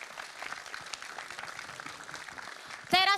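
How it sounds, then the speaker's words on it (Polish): Applause from the audience at the Mister Polski 2020 final gala, a soft, distant patter of clapping that runs steadily, then gives way to a short burst of louder music or a stage sound at the very end. "Jeszcze raz wielkie brawa!"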